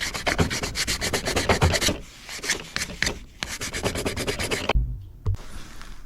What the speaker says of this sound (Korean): 똑같은 방식으로 사포로 마무리해줍니다.